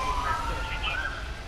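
An ambulance siren wails at a house fire on City Road in Cardiff, its rising and falling tones fairly loud and continuous over a rumbling street background.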